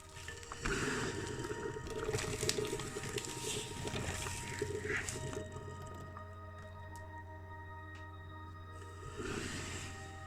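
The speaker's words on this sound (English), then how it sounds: "We'll cover it with boiling water" Boiling water is poured into a tall foot-long hot dog jar in a gurgling, splashing stream for several seconds, pauses briefly, then pours again near the end.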